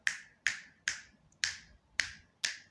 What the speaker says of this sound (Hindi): जब तक ये चुटकी सुनाई देगी ना तुम्हें